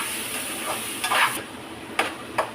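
Prawns tipped into a pan of frying ridge gourd for a prawn curry, giving a steady close sizzle with a few sharp stirring scrapes and clinks standing out above it.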